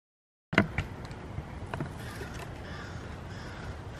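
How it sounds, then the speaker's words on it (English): A crow caws several times during a crow hunt with decoys, short calls spread across the clip over a steady outdoor hiss, moderately distant and fairly faint. "the scout little crow, he just came"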